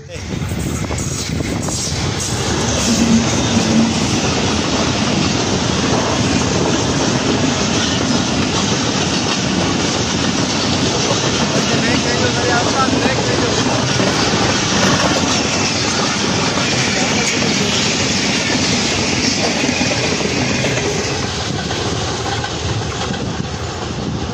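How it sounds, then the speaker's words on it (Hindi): A train passes along a railway track in Pakistan, its wagons rolling by close and loud with steady clickety-clack and rumble that holds level for the whole stretch. "आपने देखा कि गाड़ी किस तरह यहाँ से क्रॉस कर गई"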